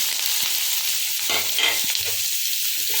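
Steady, loud sizzling of onion and garlic frying in hot oil with fenugreek, with a few soft clinks and stirring scrapes from a utensil in the pan.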